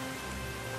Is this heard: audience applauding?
no